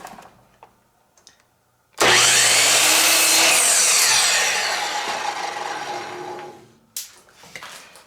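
A power saw cuts a 7.5-degree angle into the end of a wood segment for a segmented bowl: one loud, continuous rasping whine that starts abruptly, lasts about five seconds and tapers off, with quiet workshop sounds before and after.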